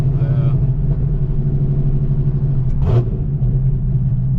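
A deep engine rumble from an 850hp Camaro ZL1 drones steadily throughout, loud and close, heard from inside the car, with a brief faint voice near the end.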